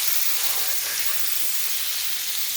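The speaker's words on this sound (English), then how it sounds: "I love the sound of sizzle, sizzle." Loud, steady sizzling hiss of meat frying in a hot buttered pan, close up and continuous with no talking.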